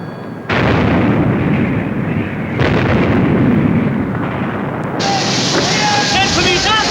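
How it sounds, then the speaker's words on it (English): Heavy naval turret guns on a warship fire in loud booming blasts, a thunderous rumble sustained for several seconds and then fading into a shriller mechanical whine, with a voice shouting over the battle noise. "By God, she's firing again! With another 2 turrets!"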